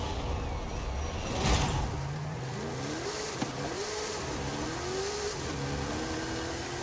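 A Scout car climbs a mountain road in Forza Horizon 5 in Mexico, its engine steadily revving and shifting through gears, rising and falling in pitch at a close, even level with no talk.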